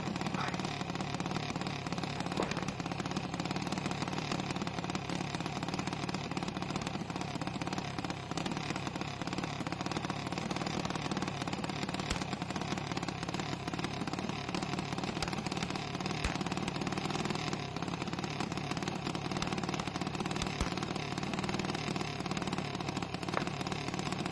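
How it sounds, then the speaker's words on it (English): A drag racing car's engine idles at the start line at a PDRA event in Memphis, a steady, moderately loud droning rumble that holds without letup for over twenty seconds amid track ambience. "Listen to the engine."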